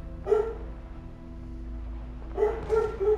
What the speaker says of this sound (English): you should be able to hear the big puppy now